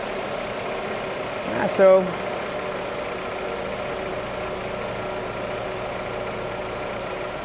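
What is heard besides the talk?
car engine idling during AC system check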